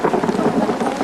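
Heavy rain pours with a deep rumble of thunder rolling through, a dense, loud, continuous wash of sound at Toranmal hill station with no voices.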